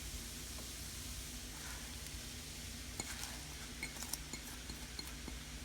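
Spinach leaves and tofu tossed in a hot pan for an egg-free breakfast scramble, giving a faint, steady sizzle with a few light utensil clinks against the pan.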